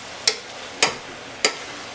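Philly cheesesteak filling cooking down in a pan, a low constant sizzle punctuated by three crisp spatula taps or scrapes spaced evenly apart, near and without speech.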